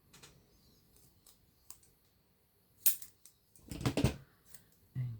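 Scissors cut strips of mounting tape at a paper-craft desk, giving faint scattered clicks and then a loud sharp snip followed by a cluster of crisp cutting and rustling sounds near the end, with no talk.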